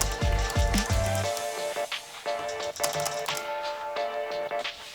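Keys clatter on a Logitech ergonomic keyboard with a slight split and wrist pad during a timed typing test, a quick irregular run of sharp close taps, heavier thumps at the start, then lighter rapid clicks.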